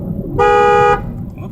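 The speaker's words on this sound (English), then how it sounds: "Didn't mean to honk the horn, sorry." A single short blast of a Mercury Villager car horn, loud and close, a steady tone lasting about half a second over a low background rumble.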